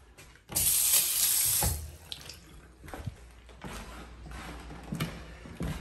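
Water gushes from a broken faucet in a burst that lasts about a second. Quieter running, dripping and knocking sounds follow in the room.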